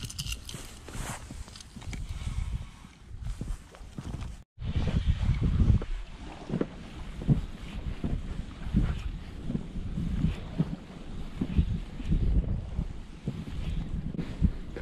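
Strong wind from a storm buffets loudly and steadily against the microphone while pike fishing, with a brief cutout partway through and a faint rushing of water beneath.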